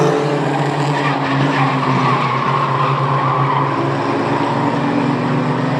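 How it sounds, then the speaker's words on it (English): Mighty Trucks roar around Star Speedway during the feature race, engines droning loud and continuous with tire noise and passing vehicles blending into a dense, unbroken racing din. "Green flag back in the air, mighty truck main event back away."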